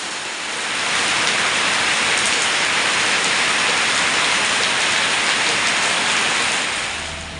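Steady, heavy rain pours down in a continuous dense hiss that swells in after a moment and holds evenly throughout, with no voices.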